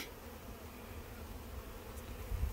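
Honey bees in an open hive colony in spring, a faint, continuous low buzzing hum from many insects close by, with a soft bump near the end.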